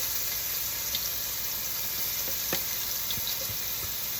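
Sofrito sizzles steadily in a saucepan with a dense, even frying crackle, the base of a Sicilian Sunday tomato sauce. Small pops and clicks come through now and then, and no one speaks.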